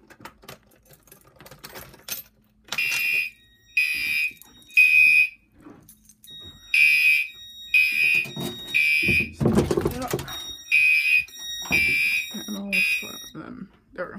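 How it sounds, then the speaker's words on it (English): Fire alarm horns from three zones on a new alarm panel blare in repeated loud, even pulses during a system test, with short gaps between bursts and someone speaking in between. "So yeah, all three zones are on alarm."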